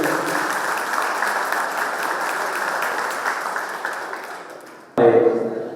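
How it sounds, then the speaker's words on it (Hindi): Audience applause welcoming a guest onto the stage at an annual general meeting: dense, steady clapping from a large crowd for about five seconds, then cut off abruptly by a louder burst of hall noise. "उनका स्वागत करने के लिए मारुति गेट से तालियां बजती हुई चाहिए"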